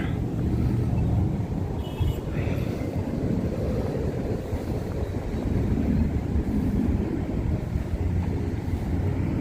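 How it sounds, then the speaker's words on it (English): Gusty wind buffeting a microphone while walking outdoors at night in Las Vegas, a loud, steady low roar of rumbling noise with little letup. "I think we'll walk against the wind this time"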